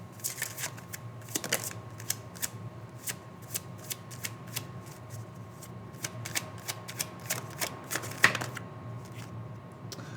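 Tarot cards are shuffled close by, making a steady run of soft riffling clicks and flutters with brief louder snaps, alone in a quiet room.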